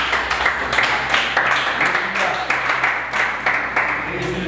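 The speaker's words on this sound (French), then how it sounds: "On applaudit tous les deux équipes" Audience applauding both teams at a youth competition event, steady clapping with rhythmic bursts under a loud room ambience and some talk.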